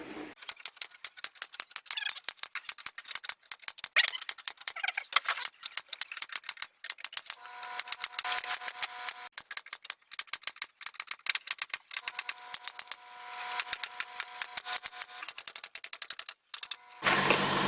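Rapid, rhythmic clacking of a nail gun pinning pallet wood cladding onto a bar frame, the sharp shots coming in quick, irregular bursts, fairly close but moderately quiet, with no talking.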